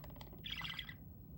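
A pet budgie gives a brief burst of bright, high chirps indoors, close but fairly soft, over a low background hum.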